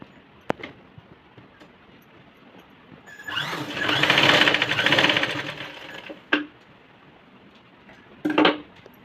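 A sewing machine stitches a princess-cut blouse, a short loud burst of rapid mechanical whirring mid-clip followed by a brief second run, with clicks and handling taps in the quiet stretches.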